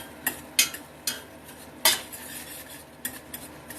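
A utensil stirs greasy food in a pan, giving a few sharp clinks and scrapes against the metal at uneven intervals over a low background hiss, with no talking.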